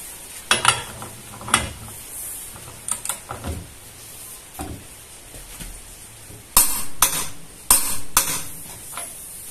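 A Modern M65 impact wrench with a double upgrade tightens at 700 Nm, firing several loud rattling hammering bursts separated by short pauses, the strongest cluster near the end.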